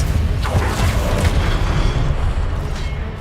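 In Hogwarts Legacy, a spell-duel disarming charm erupts as a loud, continuous rumbling boom with magical whooshing layered on top, holding strong throughout with no clear break.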